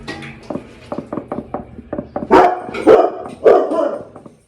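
Several dogs bark in quick, sharp bursts nearby, building to louder, overlapping barks before trailing off.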